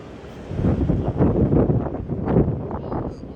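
Strong wind in Abu Dhabi buffets the microphone in uneven gusts, a rumbling, blustery roar that rises and falls over a few seconds.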